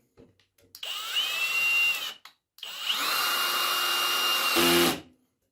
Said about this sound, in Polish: Spróbujemy sobie teraz dwucentymetrowy wkręt, ale bardzo cieniutki. On jest nabity PZ1.